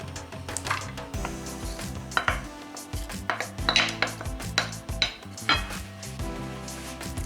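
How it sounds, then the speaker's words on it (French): Onions tipped into hot oil in a frying pan while preparing stuffed artichoke hearts, giving a soft sizzle punctuated by repeated clinks and scrapes of a utensil against the pan, close and without speech. "je viens rajouter à mon huile les oignons"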